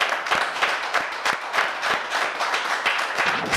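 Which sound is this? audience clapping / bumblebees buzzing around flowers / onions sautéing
audience clapping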